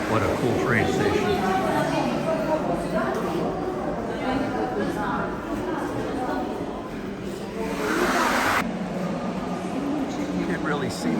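Dim underground train station ambience in Lviv: a broad, reverberant wash of crowd murmur, footsteps and distant rumble with no single dominant sound, and a voice talking close by.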